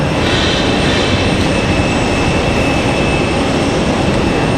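An MD-11 airliner's engines roar loud and steady as it prepares for departure at night at Raleigh-Durham airport, a dense unbroken rumble with a faint high whine throughout.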